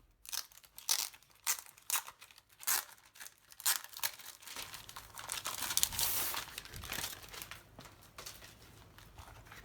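A Hobonichi planner's plastic cover-on-cover is handled, giving bursts of crisp crinkling and rustling, close and intermittent at first, then a denser continuous crinkle, with no speech.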